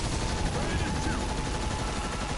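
Earth Defense Force combat with constant overlapping gunfire, a thick, unbroken barrage of rapid shots at steady loudness across the whole stretch.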